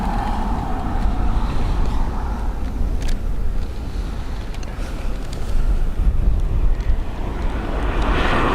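A plane taking off for Lisbon at Dublin Airport, heard as a loud, sustained broadband engine roar from a distance on a windy day, steady with slight swells and no voices.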